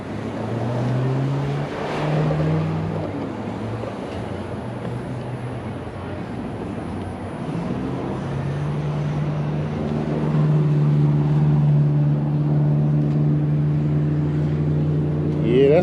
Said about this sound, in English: there's a bunch of motorcyclists out here too. You hear me? A whole grip of them.